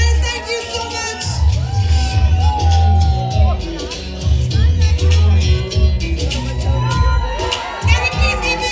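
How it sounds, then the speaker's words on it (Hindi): A large crowd at a Bollywood film trailer launch event cheers, whoops and shouts loudly and continuously, with music and amplified sound running beneath the dense, sustained roar. "Bhumika के लिए तालियां guys."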